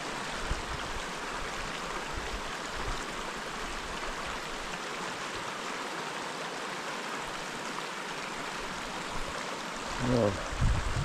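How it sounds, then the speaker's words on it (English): Bighorn Creek, a mountain stream at a hiking crossing, rushes in a steady, fairly faint wash of flowing water. A brief thump comes near the end. "So we're coming down to the Bighorn Creek to make a creek crossing here."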